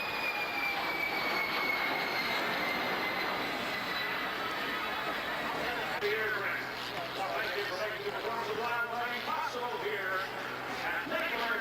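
A jet airplane in mid-air refueling behind a tanker at the Blue Angels air show, a steady broad engine roar that holds at constant loudness throughout, with a faint descending whine early on and a voice talking over it.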